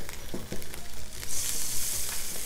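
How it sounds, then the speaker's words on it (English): A tablespoon of butter hitting an already hot pan sizzles steadily, with a bright hiss that swells midway and keeps going with no talking. "Okay, so the pan is already nice and hot. We're gonna go ahead and put a tablespoon of butter."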